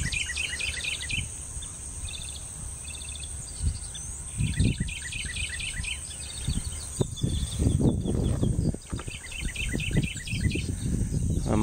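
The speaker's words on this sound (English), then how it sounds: "Listen to all the birds." Many birds sing and chirp steadily in a wooded river bottom, with repeated trilling phrases layered over insect buzz and occasional rustling close by.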